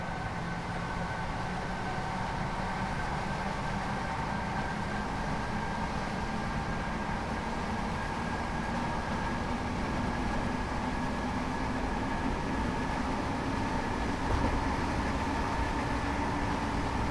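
A train coasting with power shut off in Train Simulator Classic on a route from Cologne toward the airport: a steady, continuous rolling rumble with a faint constant hum, unbroken and without talk.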